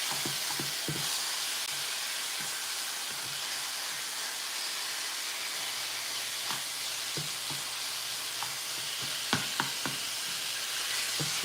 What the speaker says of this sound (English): I just threw my ground beef in there, you guys.